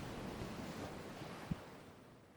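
Ocean surf washes onto the shore at a fishing village in a faint, steady roar, with one brief low thump partway through.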